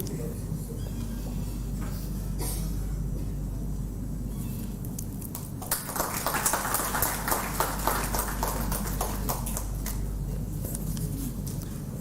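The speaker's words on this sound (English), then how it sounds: "A huge round of applause from the audience for Mr. Mahib Singh, sir, for his engaging presentation." Audience applause at a university innovation and startup meet, following a presentation; a dense patter of clapping builds from the middle and continues steadily over a low hum from the room.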